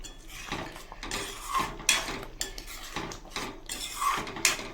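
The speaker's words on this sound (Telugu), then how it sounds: "ఇప్పుడంతా ఒకసారి కలుపుకోండి." A metal spoon stirring palak paneer curry in a pan, close and busy, with repeated scraping and clinking against the pan's sides and several sharper metallic taps over about five seconds, no talking.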